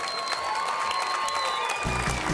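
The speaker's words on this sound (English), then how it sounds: "Could we have a big round of applause, please?" A crowd claps for the winners and sponsors at the Kariba Tiger Time 2007 fishing tournament prize-giving; even, moderate applause continues throughout, with a low droning hum joining near the end.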